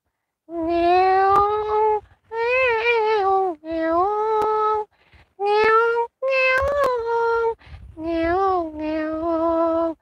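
A cat yowls in a series of long, drawn-out wailing cries with short gaps between them, loud and close, with no other sounds.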